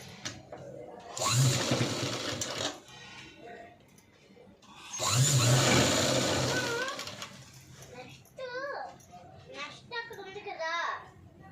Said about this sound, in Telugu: షోల్డర్స్ స్టిచ్ చేసుకోవాలి. ముందు షోల్డర్స్ స్టిచ్ చేసుకొని